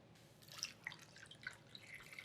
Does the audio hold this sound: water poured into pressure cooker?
yes